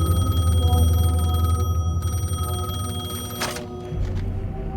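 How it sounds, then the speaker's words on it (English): Payphone ringing in the Alan Wake II video game, a loud electric bell trilling in steady bursts over a low droning hum, close and alone. "The payphone was ringing."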